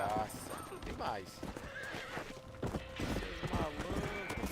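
Hooves clip-clop steadily while a horse neighs and whinnies in Red Dead on PS4, mixed with game sound effects and a voice talking over them.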